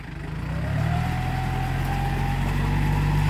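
A Yanmar tractor struggling in a boggy rice field gives a continuous diesel rumble that swells in the first second and then holds steady and loud, with a faint rising whine above it.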